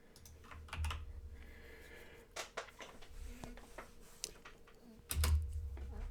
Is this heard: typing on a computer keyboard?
yes